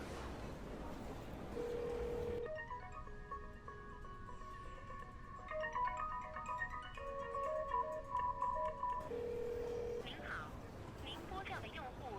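A mobile phone call rings unanswered, its melodic electronic ringtone repeating for several seconds in the middle before cutting off, set against a quiet indoor background.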